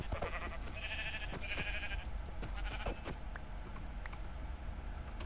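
Sheep in the Rangeland video game bleat several times in short, repeated calls, moderately loud over a steady background hum, with no one talking.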